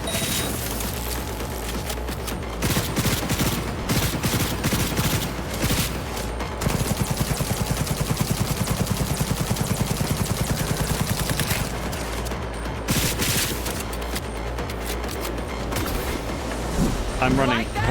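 Rapid gunfire bursts crackle in the video game Cyberpunk 2077, loud and dense over a steady game background, with a rhythmic stretch of automatic fire in the middle and a player talking over parts of it.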